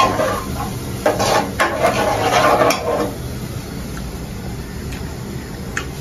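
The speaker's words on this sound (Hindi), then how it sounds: "हम इसको पाँच मिनट भुनेंगे" Potato and cauliflower are stir-fried in a pan for aloo gobi. Several crisp clinks of a spoon against the pan fall over a steady sizzling hiss, and the clinks thin out as the frying carries on.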